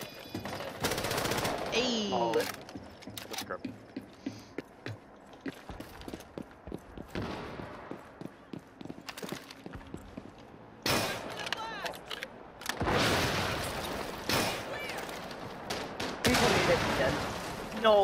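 Gunfire in the tactical shooter Rainbow Six Siege, loud bursts of automatic fire breaking out in several separate volleys among scattered single shots, clatter and footsteps, with short spoken remarks in between.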